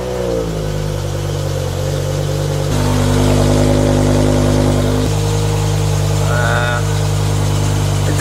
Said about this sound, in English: Let's do the first cold start ever in the E60 M5.